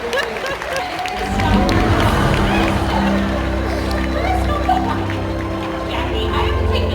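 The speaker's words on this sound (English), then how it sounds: "Give him a big round of applause." An audience at a Universal Studios special effects show applauds and cheers, a crowd roar swelling after the first second and holding steady beneath a sustained music bed.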